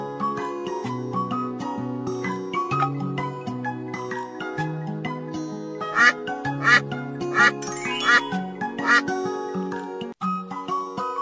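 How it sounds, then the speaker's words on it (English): Cartoon-style duck quacks ring out in a children's animal-names song, several in a row over a bright melody with chimes and singing voices. "Duck."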